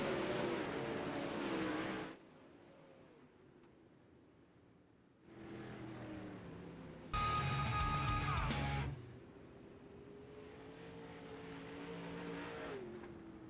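Simulated 360 sprint cars in the iRacing game cross the finish line, their engines roaring past in several loud, separate bursts with quieter gaps between, and no talk.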